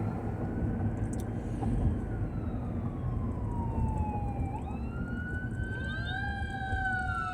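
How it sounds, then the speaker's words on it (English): A fire truck siren wails and sweeps in pitch as it passes, joined by a second siren rising in the distance over steady traffic noise. "a siren. Fire truck is coming by."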